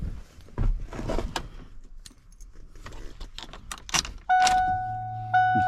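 Warning chime in an old pickup truck cab after the key turns, a steady electronic tone that starts partway through and holds, following clicks, key jingles and rustling, with a faint fuel-pump hum underneath.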